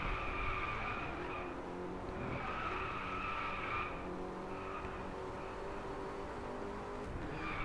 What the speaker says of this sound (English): I'm just e-braking every corner.